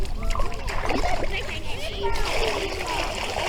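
Water poured onto a homemade slide at a campsite splashes and sloshes continuously, with excited voices talking and exclaiming over the splatter.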